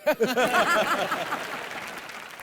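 Studio audience on an Indian comedy show responds with bursts of laughter and clapping that start loud and gradually taper off, with chuckles mixed into the fading applause.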